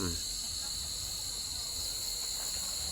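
Dense, steady chirping of many crickets fills the whole stretch, loud and continuous with no pauses.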